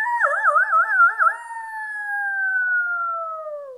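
A wolf howls in a French telling of Peter and the Wolf: one long, loud howl that wavers at first, then slides slowly downward, heard alone.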